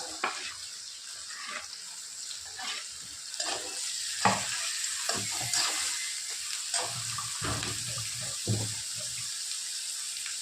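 Tomatoes go into a hot pan with onions for pumpkin sabzi, setting off a steady close sizzle of frying broken by intermittent stirring clatters and scrapes, with no talk.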